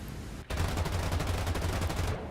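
An aircraft gunner's turret machine guns in War Thunder fire one sustained, very rapid burst of evenly spaced shots for about a second and a half, heard alone and fairly faint.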